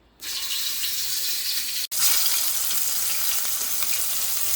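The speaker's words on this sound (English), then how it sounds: "Since my pot is hot already, I'm going to start frying the mushrooms." Loud, steady sizzle of mushrooms frying in a very hot pot, continuous and close, with a brief cut midway before the hiss resumes.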